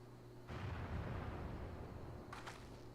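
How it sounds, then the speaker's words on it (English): Cannon fire in the video game Final Fantasy XIV Stormblood booms out in a heavy rumbling blast, followed a moment later by a second sharper report, with no talking. "Cannon fire!"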